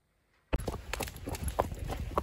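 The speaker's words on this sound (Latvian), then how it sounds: "Zirdziņi nāk mājās, Grifons, Limerata, un tur aiz mugurā ir Donna." Horses' hooves clip-clop as several horses walk home to the stable in the evening, starting abruptly after a quiet moment and continuing in a close, uneven walking rhythm with faint voices nearby.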